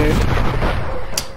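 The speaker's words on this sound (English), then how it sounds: "I'm gonna shoot you right in your goddamn legs." Gunfire in the Red Dead Revolver video game: a loud close shot bursts out and its echo rolls away, then a sharp crack follows about a second later.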